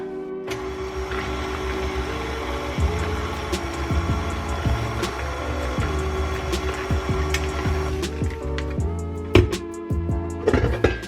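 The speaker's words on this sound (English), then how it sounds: "if you hold the mixer, it makes it mix better" An electric hand mixer beats chocolate chip cookie dough with eggs, a steady close motor whir that runs without a break, with rattling and knocking against the bowl toward the end and no talking.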